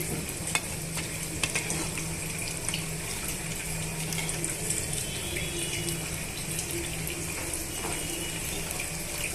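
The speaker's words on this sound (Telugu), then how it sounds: "ఇప్పుడు ఇవన్నీ కూడా బాగా వేగనిద్దామండి ఇలా బాగా వేగనివ్వాలండి" Evening snack items fry in a pan with a constant, close sizzle and bubbling crackle of hot oil, broken by occasional small pops, with no talking.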